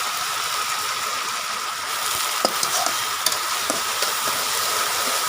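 Dried fish frying in a pan with chilies, a steady close sizzle and hiss with a few light scrapes and clicks near the end; no talk is heard.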